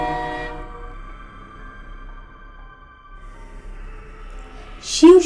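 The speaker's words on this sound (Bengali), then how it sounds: "মোগলসরাই প্যাসেঞ্জার ট্রেনটা ঘড়ঘড় করতে করতে বেরিয়ে গেল রেলিয়ার্ড ছেড়ে।" Mughalsarai passenger train rolling out of a rail yard on a through signal, a steady low rumble with tonal hum, ending in a brief loud squeal or horn-like burst.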